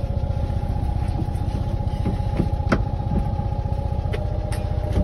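Steady close idle of a 1966 Fiat 500's small engine, a rapid pulsing putter with even rhythm throughout, alone with no voices.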